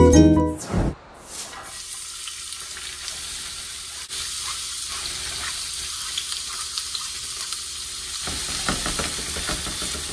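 Cinnamon raisin French toast slices fry in a pan with a steady, moderate sizzle after a brief clatter at the start, continuing without speech.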